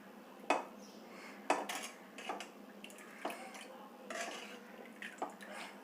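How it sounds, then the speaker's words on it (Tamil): Lemon juice being stirred into sugar syrup in a metal vessel, with several sharp clinks of a spoon against the pot and soft liquid swishes between them, close and fairly quiet. "நல்லா அந்த சர்க்கரை பாகில் நல்லா மிக்ஸ் பண்ணி விட்டுருவோம்."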